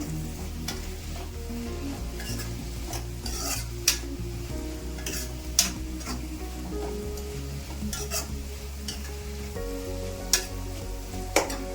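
Mint-leaf breakfast mixture fried in a pan over a medium flame while being stirred constantly, giving a steady close sizzle broken by periodic sharp scrapes and clinks of the spoon against the pan.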